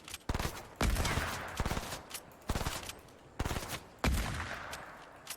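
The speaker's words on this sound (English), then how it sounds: "Yeah, I just got shot at." Gunfire in Fortnite: several sharp bursts of shots crack out in separate clusters, each punchy volley followed by a fading tail, fairly close and with no talking over it.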